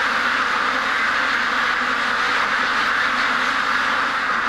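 Quacking from a duck that appears sick, confined near a feeder on a farm raising ducks, heard as a steady, close, raspy run of calls filling the whole stretch with no speech.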